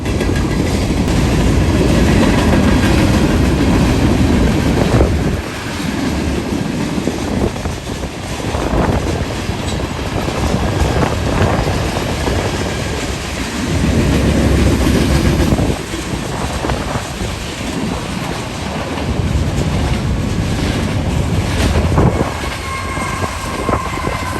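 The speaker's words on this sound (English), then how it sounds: "It was a UP ET44AC." A Union Pacific ET44AC locomotive hauls a freight train past, a loud and continuous rumble with rhythmic clickety-clack of wheels over rail joints, heard close and alone throughout.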